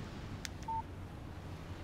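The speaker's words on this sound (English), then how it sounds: "Text message from Barry." A text message alert sounds in Alan Wake Remastered, a single short electronic beep tone, brief and faint over quiet background ambience.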